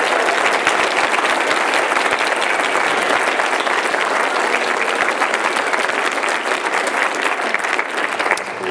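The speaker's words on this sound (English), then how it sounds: "so a round of applause for them." Audience at a TPPA political debate in Christchurch gives loud, sustained applause for the event organisers, a dense, even clatter of many hands lasting nearly nine seconds.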